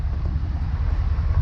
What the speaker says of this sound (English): See how these pipes sound with the windows down.